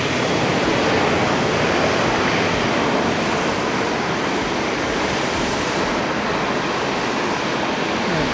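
A Singapore Airlines airliner at Haneda airport produces a loud, unbroken wash of jet engine roar, steady and close, with no voices over it.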